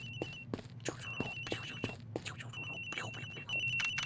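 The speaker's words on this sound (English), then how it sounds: "Wow, she has a really nice ringtone" A cell phone ringtone in the Ace Attorney Investigations video game plays as a repeating electronic ring, fairly faint, mixed with other in-game sounds and clicks.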